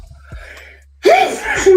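A loud, close sneeze bursts out after a quiet moment, with a sharp breathy explosion and a brief voiced tail.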